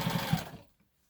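A sewing machine stitches a formal prom dress in a short, quiet burst of rapid mechanical whirring that stops abruptly, leaving near silence.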